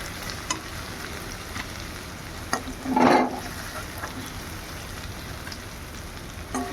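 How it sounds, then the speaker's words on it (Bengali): An egg fries in leftover prawn oil in a pan, a soft steady sizzle with a louder burst of spattering midway and a few faint clicks. "সেই তেলে আমার ডিমটাও ভাজা হয়ে যাচ্ছে"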